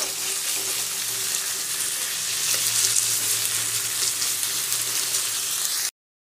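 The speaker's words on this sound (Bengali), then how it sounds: "এবার পেঁয়াজটাকে লাল লাল করে ভেজে নেব" Onions frying in a pan until browned, giving a steady, close sizzle that runs unbroken for about six seconds and then cuts off to silence.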